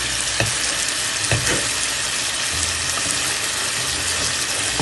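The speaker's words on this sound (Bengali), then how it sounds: "মশলাটা সব কিছু সঙ্গে কষিয়ে নিচ্ছি মাছটা ভেজে নিচ্ছি" Fish and spices frying in a pan for a spicy curry, a steady loud sizzle with a few stirring knocks, continuous and close with no talking.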